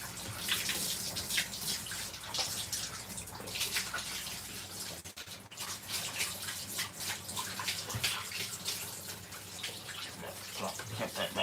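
Shower water spraying over a dog being rinsed in a bath, a continuous close hiss and splash with brief dips and soft bumps, and a voice speaking intermittently over it.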